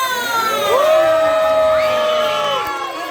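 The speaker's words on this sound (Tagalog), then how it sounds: "parinig po muna ng isang malakas na palakpakan na may kasama" A crowd cheering and shouting loudly at a children's birthday celebration, with high excited voices whooping throughout and fading slightly near the end.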